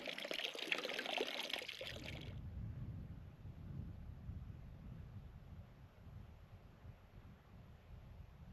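Clean water pours out in a bright, hissing splash for about two seconds, then gives way to a low, rumbling wash of wind buffeting the microphone outdoors in the Nevada desert.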